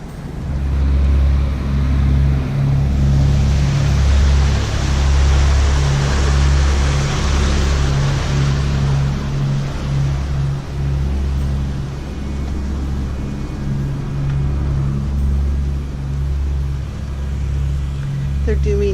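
The trawler Sea Venture cruises near Skidegate in Haida Gwaii. Its engine gives a steady, loud low drone throughout, with a pulsing throb and some wash of water on top.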